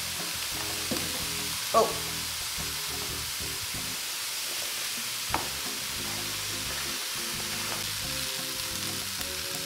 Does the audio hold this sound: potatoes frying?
yes